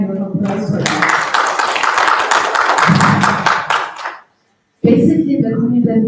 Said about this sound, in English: let's actually give a hand of applause for that